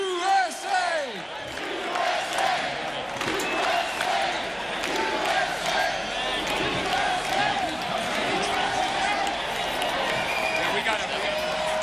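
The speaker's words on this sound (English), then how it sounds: "Let's send our athletes out with a big cheer here" A large outdoor crowd at a Special Olympics event at Red Rocks cheers and chants continuously, a loud dense roar of many voices with rhythmic shouts rising and falling, while someone speaks over it.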